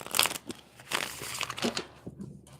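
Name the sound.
shuffling oracle cards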